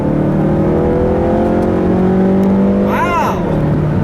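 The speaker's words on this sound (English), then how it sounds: "Listen to that engine." A 2018 Mazda3 Grand Touring's 2.5-liter Skyactiv-G engine pulls hard in sport mode on a back road. Its steady, rising drone is heard from inside the cabin, and a short sweeping chirp cuts in near the end.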